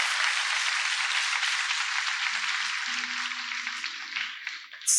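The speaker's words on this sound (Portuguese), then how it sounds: "E dê um aplauso bem forte ao Senhor dos Exércitos." A church congregation applauds the Lord in a sustained wash of clapping that holds steady and then fades toward the end, with a faint tone lingering underneath.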